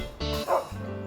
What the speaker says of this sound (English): 6 dogs barking. What a racket!